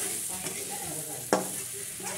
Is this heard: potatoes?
yes